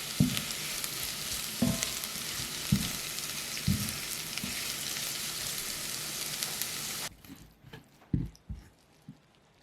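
Onions sauté in oil and salt, sizzling steadily in a hot pot over medium-low heat with occasional scraping stirs, then the sizzling cuts off and only a few clunks of the utensil remain.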